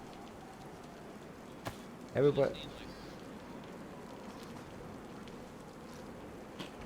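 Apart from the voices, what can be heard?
rain falling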